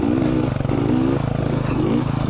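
Dirt bikes ride a single track trail in Utah, a motorcycle engine buzzing and revving at moderate distance with wavering pitch, accompanied by light clatter from the ride.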